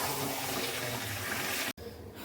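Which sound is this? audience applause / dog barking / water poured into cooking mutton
water poured into cooking mutton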